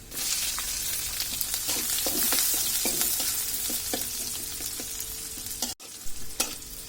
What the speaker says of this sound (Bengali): এখন আমি এর মধ্যে পেঁয়াজ কুচি, কাঁচামরিচ কুচিগুলো দিয়ে দিব।